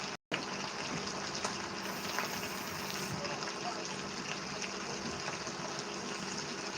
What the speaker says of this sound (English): I'm going to thin it out with a little bit of water.